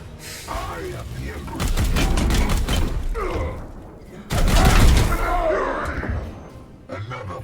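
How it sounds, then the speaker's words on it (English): Two heavy bursts of return gunfire with booming impacts in the turn-based game Warhammer 40k: Chaos Gate Daemonhunt, loud and close, with a voice talking around them. "There's the return fire."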